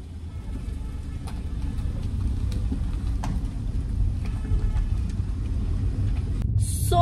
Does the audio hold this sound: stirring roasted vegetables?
no